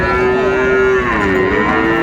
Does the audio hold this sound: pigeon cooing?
no